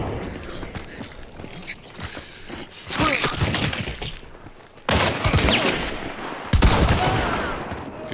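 Gunfire in the Hunt: Showdown video game: several sharp, loud shots and bursts, with heavy reports near 3, 5 and 6.5 seconds, over a dull, thumping background.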